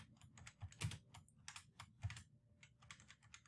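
Code is typed on a computer keyboard in a quiet room, producing a brisk run of soft, close keystrokes with irregular spacing and a few heavier taps.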